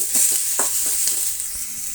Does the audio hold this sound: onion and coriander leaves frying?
yes